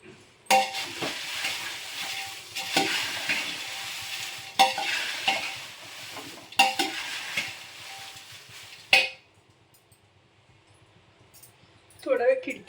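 Green chilies roasting in a pan, a broad sizzling crackle with stirring and scraping clatter that runs in bursts for about nine seconds before dropping to near silence, then a brief scrape at the end.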